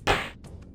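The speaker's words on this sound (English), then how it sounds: "This is the sound of getting points in this game." Points pickup effect from the game Pathways Into Darkness: a single short, bright whooshing burst that fades quickly, followed by a few faint, softer echoes.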